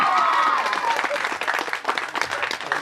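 An audience at a pandal show breaks into applause, loud at first and thinning into scattered claps, with crowd voices underneath.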